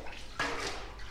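Plain water rinsing the bottom of an emptied, cleaned pit that still has patches of old mastic, a steady close splashing rush that surges after a quieter start.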